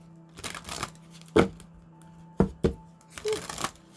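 Cards from an oracle deck are shuffled and handled up close, in several separate bursts of riffling and snapping with quiet pauses between.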